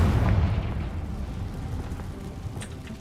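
Confringo fire spell blast in Hogwarts Legacy: a heavy, booming explosion with a low rumbling tail that fades over a few seconds, with faint crackles near the end.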